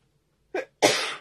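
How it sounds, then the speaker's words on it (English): A short catch of breath is followed by one sharp, explosive burst, close and loud, in an otherwise quiet room. "I've got a cough now"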